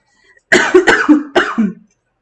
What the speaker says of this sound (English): I started my coughing up.